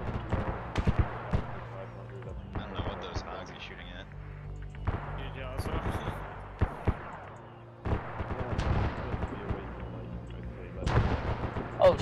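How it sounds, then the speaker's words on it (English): Incoming gunfire and artillery fire during a military engagement, with repeated loud, sharp bursts and booming impacts at irregular intervals, some near and some farther off, and voices shouting between them. "Oh shit, we're taking fire"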